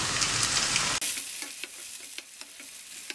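A loud burst of frying sizzle for about a second as chopped tomatoes hit frying onions, then quieter stirring and scraping with occasional clicks of a utensil in the pan.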